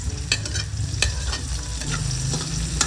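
Garlic and onion frying in cooking oil for spaghetti sauce, a close, continuous crackling sizzle with a few small taps of stirring.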